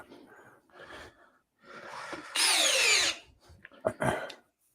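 Milwaukee and DeWalt 12V cordless drills whine loudly in a burst lasting about a second, with a few shorter bursts after it, among scattered thumps and breathy noises.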